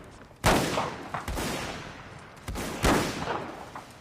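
Musket gunfire in a Mount & Blade North & South mod line battle: two sharp volleys crack out about two seconds apart, each trailing into a ragged, echoing rumble of scattered shots.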